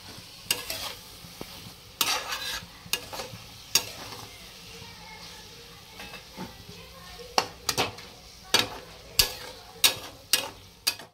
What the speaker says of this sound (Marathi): चांगले मिक्स करायचे आहे आपल्याला।